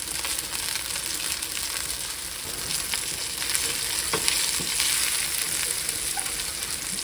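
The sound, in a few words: minced garlic and ground cumin frying with chorizo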